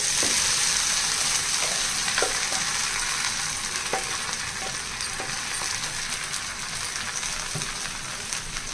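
Dal poured into a hot oil tempering of crisp-fried curry leaves, giving a loud, steady sizzle and crackle throughout with scattered sharp pops, no voices.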